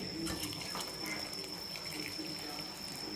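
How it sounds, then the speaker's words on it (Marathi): Hot water pours into a cooking pot of eggs for egg biryani in a home kitchen, a steady close splashing hiss that runs the whole time without a break. "आणि नंतर आपण टाकू याच्यामध्ये गरम पाणी टाकायचं."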